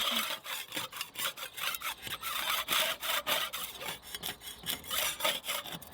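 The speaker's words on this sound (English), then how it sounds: "After scraping the worst bits off the paint" Steady rhythmic scraping, a tool rasping back and forth over the hard painted roof of a narrowboat in quick repeated strokes, removing old paint.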